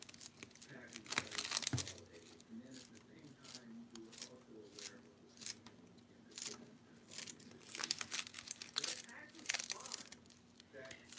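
Red plastic bag handled in a kitchen while cooking dinner, with bursts of crinkling and rustling that come and go over the whole stretch, a faint background broadcast voice underneath.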